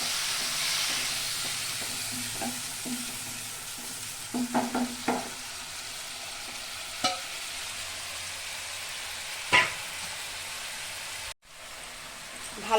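Water with Kashmiri chili powder boiling in a pan for soybean egg curry gives a steady soft hiss and bubble, with a few light clinks and scrapes over it.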